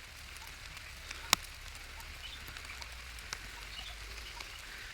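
Soft steady patter of rain with scattered drips and one sharp clear drop standing out, faint and ambient, no voices.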